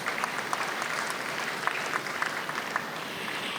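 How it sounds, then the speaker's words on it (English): Warm audience applause at a college presidential investiture ceremony, even and sustained clapping from a sizable crowd, moderately distant. "And I think that deserves another warm round of applause."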